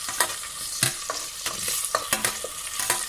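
A large tomato goes into ginger-garlic masala frying in a pan for a chicken daal dish, bringing steady close sizzling with repeated scraping stirs.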